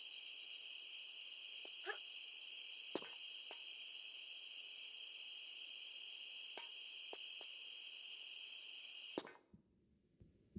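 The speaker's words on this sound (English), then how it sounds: "The crickets suddenly fell silent." Crickets chirp in a high security compound level of Tomb Raider 3, a steady continuous trill with a few faint clicks, then abruptly cut to near silence at the end.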